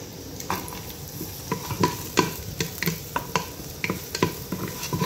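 Garlic fries in a pan with a steady soft sizzle while a utensil stirs and scrapes against the metal in repeated close clinks and taps, no talking.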